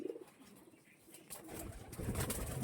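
Deep Jamni Panja pigeons coo softly and faintly at a distance, with low, murmuring calls growing slightly fuller toward the end.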